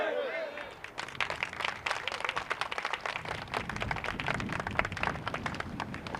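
Audience at a joint financial-union rally applauding after a struggle speech, a dense, steady burst of many hands clapping that fills the room, with faint voices at the start.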